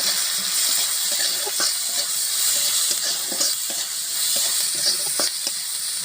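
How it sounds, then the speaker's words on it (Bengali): Whole spices, dried red chilli, bay leaf, cumin and onion frying in mustard oil in a kadai, a steady close, loud sizzle with scattered crackles and stirring clicks throughout, no talk. "সম্বারাটা আমার পুরো ভাজা হয়ে গেছে,"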